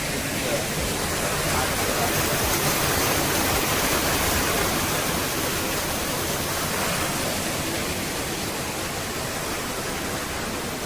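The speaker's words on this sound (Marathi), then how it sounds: "पाणी एक नंबर" A stream flows through green Konkan countryside near Malvan, making a dense, unbroken rushing roar. It stays loud and steady from start to finish.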